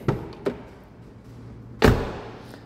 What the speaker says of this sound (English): the sound of the door is not the same as the original pure Jaguar